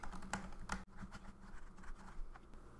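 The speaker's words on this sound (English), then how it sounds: "So I might type something about my student." A note being typed on a computer keyboard, a soft patter of close keystrokes that is quiet overall, with a few sharper taps standing out.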